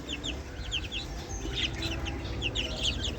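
Hens and young chicks clucking and cheeping close by on a small farm, a busy run of short high peeps over lower clucks with a steady background hum, no talking.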